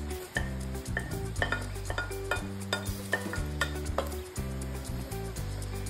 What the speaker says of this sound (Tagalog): Isuti lang na to ang garlic